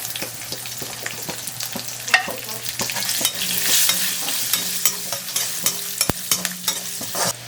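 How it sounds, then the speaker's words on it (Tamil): Chopped garlic fries in hot oil while a spatula stirs it, producing a continuous sizzle broken by repeated sharp scraping and tapping strokes against the pan, with one loud clack near the end. "அந்த பூண்டை சேர்க்குறேன்"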